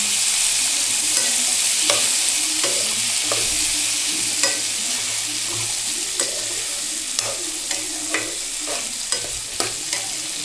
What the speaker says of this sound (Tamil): வேக வச்சுருந்த சுண்டல் எடுத்து கொட்டிக்கலாம். நல்லா வதக்கிக்கோங்க.